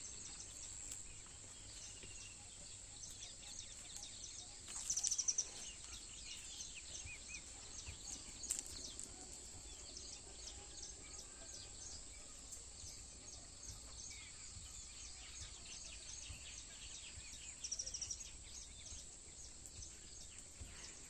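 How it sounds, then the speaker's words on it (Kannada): Outdoor ambience with a steady high insect-like trill and scattered bird chirps, a few louder calls standing out nearby; no talking. "ಕೇಳಿಸಿಕೊಳ್ಳಿ ಅಕ್ಕಿ ಪಕ್ಷಿಗಳ ಸೌಂಡ್ ಎಷ್ಟಿದೆ ಅಂತ"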